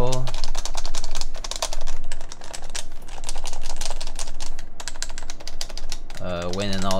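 Keys clack in quick bursts on a Norbauer Heavy Grail mechanical keyboard, a dense run of close, crisp strikes with short pauses, as someone talks over the typing.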